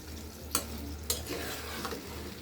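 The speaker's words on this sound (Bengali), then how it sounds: "এটা কষানো হোক" Duck meat sautés in a pan with a low, continuous sizzle, broken by a few sharp scraping strokes of a spatula and a steady hum behind.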